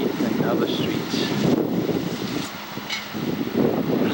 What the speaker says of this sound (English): Looks like the storm is over, but it's very windy.